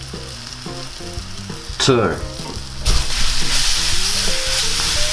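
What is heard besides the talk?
garlic and herbs sizzling while being mixed in pan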